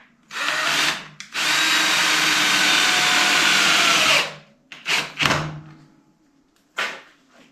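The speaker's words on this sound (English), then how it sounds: "it looks like a perfect job for a self-tapping screw" Power drill driving a self-tapping screw into a gas-powered Power Wheels ride-on build, with a short whir, a long sustained buzzing run of about three seconds, then a few brief bursts, loud and close.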